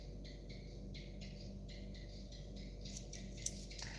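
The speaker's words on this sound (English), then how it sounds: "There's that cicada. Can you hear the cicada?" Cicada chirping outdoors during a live tarot stream, a faint, steady pulsing buzz in repeated bursts, distant and soft against quiet background hum.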